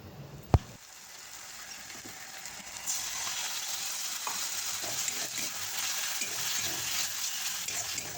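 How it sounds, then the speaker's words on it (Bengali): Spice paste and fried onions sautéing in a pan for an egg curry with potato and cauliflower, a steady sizzle and stirring scrapes, with a sharp utensil knock near the start and the frying growing louder partway through. "মশলাটাকে খুব ভালোভাবে কষিয়ে নিচ্ছি"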